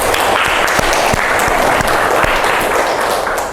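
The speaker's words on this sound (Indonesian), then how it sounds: "Oke anak-anak, beri tepuk tangan untuk Aurima" Madrasah junior high school students applaud in a classroom, a loud, close, continuous patter of many hands clapping together that holds steady and eases slightly at the end.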